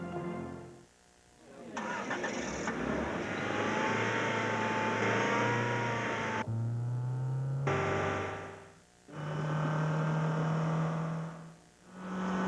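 A Honda Civic engine on a test stand, starting and revving in sustained bursts with rising whine and steady drones, separated by short quiet gaps, loud and close.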